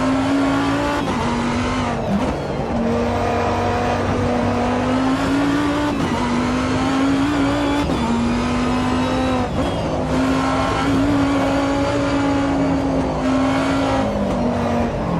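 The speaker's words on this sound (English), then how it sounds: "Oh, downshift, Evan." A race car in Automobilista 2 drones steadily at high revs, and the engine pitch dips at each downshift before climbing again, a loud continuous roar with no talk.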